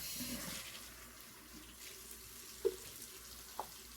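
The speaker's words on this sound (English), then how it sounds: "I need to add some more water." A tap runs faintly as water is added to a shaving soap lather, with a soft steady flow and a couple of small clinks or splashes.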